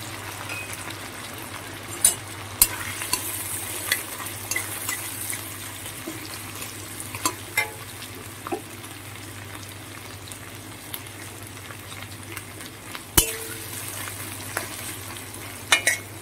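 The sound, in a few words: onions frying in crab-frying oil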